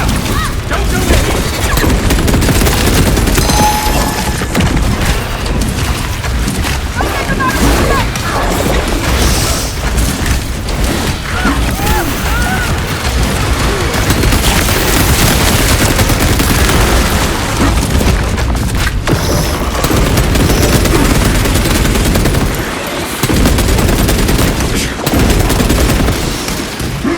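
Heavy gunfire and explosions in the video game Space Marine 2, a loud relentless barrage of rapid shots and deep booms lasting the whole stretch, with voices shouting over the combat.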